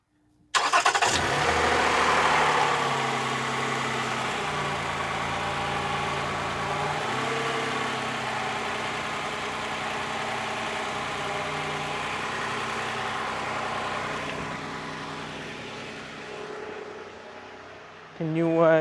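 A 2015 Toyota Sienna's 3.5-litre engine cranks briefly and catches, then settles into a steady, close-up idle with an even mechanical hum that holds for the rest of the stretch before a short louder burst at the end.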